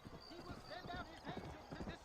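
Horse hooves clip-clopping in the Western video game Red Dead Redemption, a steady close rhythm of hoofbeats mixed with game sounds and a speaking voice over the whole stretch.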